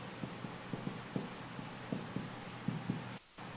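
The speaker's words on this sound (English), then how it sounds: "I'll write it bigger" Handwriting on a board or paper for a chemistry lesson on oxidation states, a string of short, soft scratchy strokes in uneven rhythm, close but faint over a steady background hiss; no talking.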